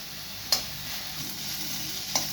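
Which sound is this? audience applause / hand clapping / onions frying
onions frying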